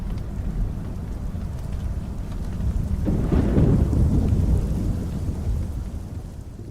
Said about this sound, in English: the deep rumbles and rhythmic patting of rain from a thunderstorm